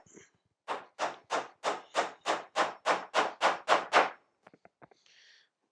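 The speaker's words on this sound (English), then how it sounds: "just hold it down and then hammer it in." Eleven even hammer blows on a wooden beehive floor, ringing out in a steady rhythm close by, followed by a few light taps and a short rustle.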